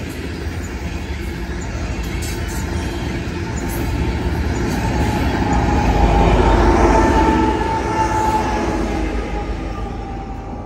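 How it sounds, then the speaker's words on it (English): A southbound BNSF loaded coal train rolls past with three rear distributed power units, two ACEs and an ES44, as a steady rumble of rail cars and wheels swells louder in the middle, then eases slightly. "here comes the end of three GTs. Two of them are ACEs and one of them are ES44."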